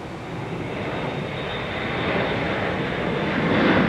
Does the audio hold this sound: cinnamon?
no